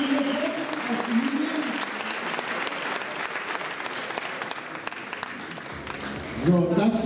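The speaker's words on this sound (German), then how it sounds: "Wir haben noch einen Applaus verdient" An audience applauds bodybuilding competitors on stage at a championship, a steady wash of clapping and crowd noise that swells briefly near the end.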